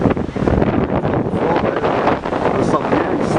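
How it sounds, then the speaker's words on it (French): Strong north-northwest wind blowing at a beach, roaring steadily and loudly across the microphone throughout, with a voice talking over it. "le vent s'est levé nord-nord-ouest."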